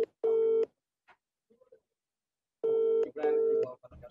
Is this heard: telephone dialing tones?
yes